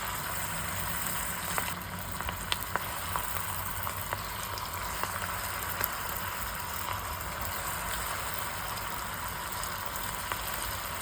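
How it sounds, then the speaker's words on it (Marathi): Cabbage Manchurian balls deep-frying in hot oil, a steady close, dense bubbling hiss with scattered small pops and crackles throughout, no voices. "तेल गरम झालंय. आता आपण मंचुरियन त्यात टाकूया."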